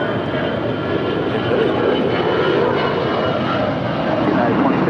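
An airliner takes off from runway 25 right at LAX, and its engines make a loud, continuous broadband roar that swells slightly partway through. An air traffic controller's radio voice can be heard under the noise.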